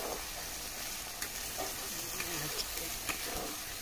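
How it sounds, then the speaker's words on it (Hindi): Chili, black pepper and cumin masala fries with onions in a pressure cooker for chicken curry, giving a continuous dense sizzle with faint stirring scrapes, close and steady. "अब इसे बढ़िया से हम फिर से भूनेंगे"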